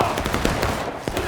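Rapid musket volleys crack out in the Civil War game War of Rights, a dense, loud run of overlapping shots with one sharper report near the end, with a voice faintly mixed in.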